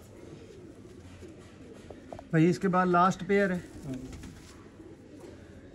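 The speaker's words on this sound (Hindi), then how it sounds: "ये कबूतर हैं जी दोस्तों आज के शौक में" Breeder pigeons in a loft coo softly in the background while someone speaks briefly over them.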